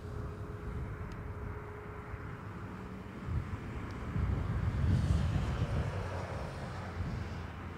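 A jet airplane taxiing at Dublin Airport, its low, steady engine rumble heard from a distance, swelling gradually toward the middle and easing off again, mixed with outdoor wind and ambient noise.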